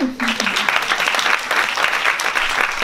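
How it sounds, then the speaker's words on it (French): Steady applause from a crowd, dense and continuous clapping throughout, fairly loud and close. "je pense qu'on peut l'applaudir aussi"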